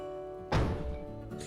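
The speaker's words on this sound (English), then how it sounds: "That was a really loud bang for a very, very slow connection." A sudden heavy bang as slow-moving train cars couple together in the Derail Valley railway game, a single thudding impact over a steady engine hum, followed by a brief clank.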